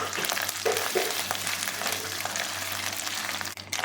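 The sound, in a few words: frying ginger garlic paste for chana dal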